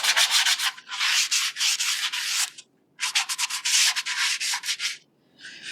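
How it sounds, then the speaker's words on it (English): Light sanding of wood: quick rhythmic rasping strokes in short bursts, separated by brief pauses, close and fairly loud. "sanding."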